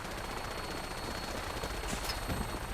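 Gunfire from Fallout 4 rattles on in a dense, steady stream, with a brief sharper burst near the end and no talking.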